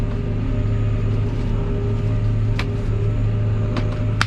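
A tractor with a hydraulic automatic steering system drives across a field, its engine giving a steady loud low drone with a constant hum throughout and a couple of brief sharp clicks.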